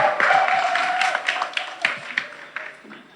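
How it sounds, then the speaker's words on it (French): Applause from an audience at an outdoor summer radio show for a performer named Didier, a short burst of scattered clapping with a few sharp claps standing out, with crowd murmur underneath. "il mérite encore plus d'applaudissements que"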